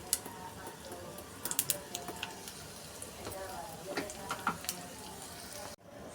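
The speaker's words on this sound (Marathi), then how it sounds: "तडक्यासाठी याच्यात घालायचं आहे मोहरी, जिरं, हिंग" Mustard seeds, cumin and asafoetida sizzle in hot oil for a fresh turmeric pickle tempering, a soft continuous crackle with scattered small pops, close but fairly quiet, ending abruptly.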